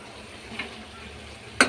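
Tomatoes are added to a pan where drumstick is frying. A soft, low sizzle runs throughout, and a sharp clatter near the end suggests something dropped into the pan.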